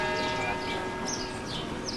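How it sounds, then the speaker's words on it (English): A clock chimes in Sibiu, Transylvania, Romania, with steady ringing bell tones that sustain through the whole moment over a bed of ambient background noise. "As the clock chimes."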